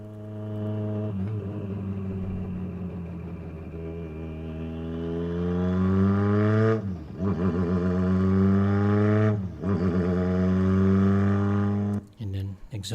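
A car engine with sequential shifters, recorded through the first exhaust, revs steadily upward in loud, close pulls broken by quick gear shifts, with a brief crackle near the end.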